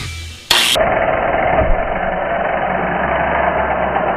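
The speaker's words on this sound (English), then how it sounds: "So I've got that very same buffing wheel that I applied it with. I've got it on my angle grinder here." An angle grinder fitted with a buffing wheel polishes a motorcycle fork from an MT250 restoration, starting abruptly and then running as a loud, steady high-pitched whine with rough grinding texture, alone and close.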